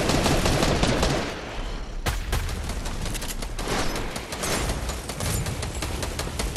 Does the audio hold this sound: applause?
no